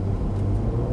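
A Cadillac CT4-V Blackwing on a race track drones with a steady, loud low engine rumble, heard from inside the car in one continuous second.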